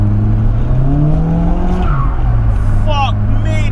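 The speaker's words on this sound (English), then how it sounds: "I'll put my foot down in third then and it just lit the rear tyres up" A modified 350 BHP S14A car spins its rear tyres under hard acceleration in third gear, a loud rising engine roar with squealing, while someone talks over it.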